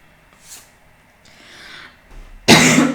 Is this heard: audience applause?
no